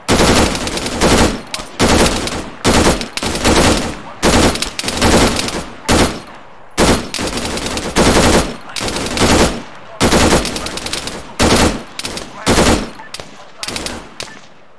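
Sustained automatic gunfire in the Arma 3 military shooter: loud, close bursts of machine-gun fire repeating in rapid clusters with short gaps between them.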